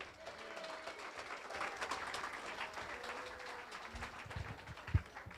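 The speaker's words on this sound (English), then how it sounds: "So another round of applause for Peter Hanano" Applause ripples through a room at an annual dinner, a steady wash of many hands clapping at moderate distance, holding evenly for several seconds with one sharper clap near the end.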